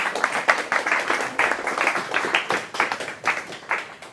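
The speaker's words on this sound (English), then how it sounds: "Please give him a big round of applause." A meetup audience gives a round of applause for a Rust presenter, steady moderately loud clapping from a small crowd with individual claps distinct throughout.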